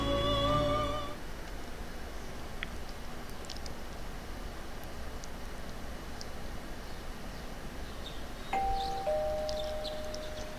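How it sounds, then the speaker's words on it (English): A doorbell rings in the video game Persona 4 Golden, a ding-dong chime at the start and a second tone near the end, with soft ambient game noise in between. "Doorbell. Don't answer it."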